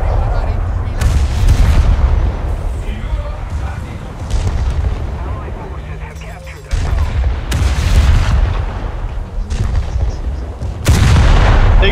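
A torpedo launches during a naval battle video game, amid heavy booming blasts and thuds of artillery-like fire over a dense, loud, continuous rumble.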